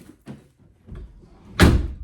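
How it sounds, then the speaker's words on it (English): A Ford Fiesta ST door, on a car having its quarter panel pulled, swings shut with a loud, solid thunk near the end, after a few softer knocks and bumps. "Look at that door shut now."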